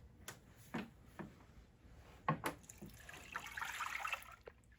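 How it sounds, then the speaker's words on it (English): Water poured from a pitcher over freshly churned butter to rinse out the buttermilk, a few splashy bursts followed by a longer, hissing stream of pouring and sloshing water, close and moderately loud. "I'm going to grab a pitcher of water to clean the butter, to get the buttermilk out of the butter"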